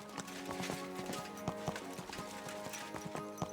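Horse hooves clip-clop in a steady trotting rhythm in Kingdom Come: Deliverance 2, close and distinct over a continuous game backdrop, with a brief whinny-like sound.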